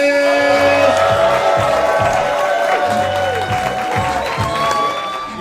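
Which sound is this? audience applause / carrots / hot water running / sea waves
audience applause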